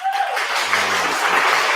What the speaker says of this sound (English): They just keep clapping. You just can't stop them from clapping.